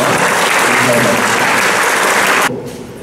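Loud, dense applause from a congregation at an Onnuri Church leadership retreat, honouring the staff, fills the room evenly before cutting off abruptly near the end, leaving faint room noise.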